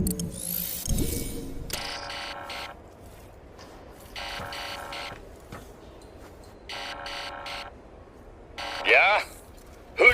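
An apartment door buzzer in the video game Tales from the Borderlands, pressed three times: harsh electronic buzzing bursts about a second long, separated by pauses, over a quiet background, with a brief clatter near the end.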